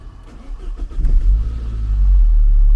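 A Saab 9-3 engine cranks briefly and catches, rising into a loud, close, steady running rumble.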